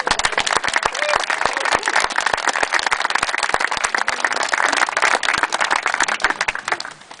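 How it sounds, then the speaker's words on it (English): Wedding guests applaud the bride and groom after the vows, a dense, steady burst of many hands clapping with faint cheering mixed in, loud and sustained for several seconds before tapering off at the end. "Can I have a round of applause to the bride and groom,"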